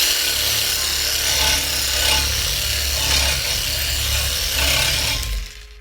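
An AL-KO HS 2015 18 V cordless reciprocating saw cutting wood, a loud, steady rasping buzz with gentle pulses about once a second, running alone for over five seconds before cutting off abruptly.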